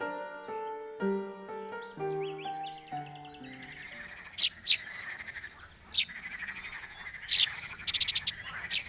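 Wetland birds call, with sharp bright chirps and song phrases that ring out in repeated bursts, fairly close and moderately loud, after a stretch of tonal, music-like notes at the start.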